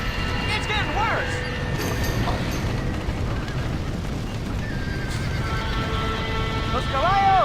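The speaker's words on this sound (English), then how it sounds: "We gotta get to the horses!" Horses neighing and whinnying repeatedly in a burning barn in Red Dead Redemption, over a constant roaring fire and hoof clatter, with people shouting.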